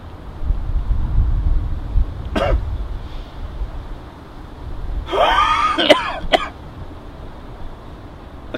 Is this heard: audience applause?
no